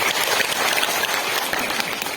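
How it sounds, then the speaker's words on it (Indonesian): Applause from a New Year's community gathering audience honoring a leader named Mr. Apriyadi, a dense, steady wash of many hands clapping close and loud throughout, with no voices standing out. "Tepuk tangan buat Bapak Apriyadi"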